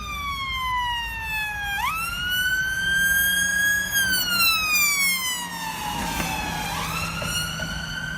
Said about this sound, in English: Now you're going to hear the sound of an ambulance driving by